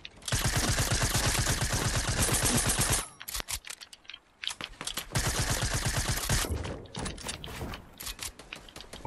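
Rapid automatic gunfire in Fortnite rattles out in long, dense bursts, a sustained stream of shots, then a pause with scattered single cracks, then more sustained firing close and loud.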